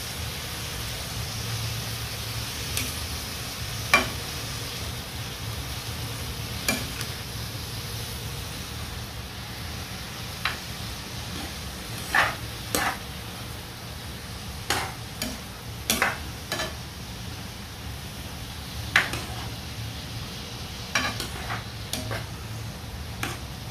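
Pancit bihon rice noodles with pepper being stirred in a frying pan: a soft sizzle underneath, broken by scattered sharp utensil clicks and scrapes against the pan at irregular intervals.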